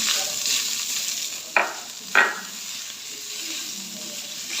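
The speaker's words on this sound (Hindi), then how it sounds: "ये साथ में मैंने ब्रेड लिए हुए हैं। ये मैं फ्राई कर लूँ।" Slices of bread frying in desi ghee in a pan: a steady, gentle sizzle with two sharp, brief bursts of spattering, with no talk.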